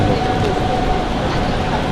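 Helsinki metro train at a deep underground station, a steady loud rumble of rolling wheels and rail noise filling the platform, with voices talking faintly underneath.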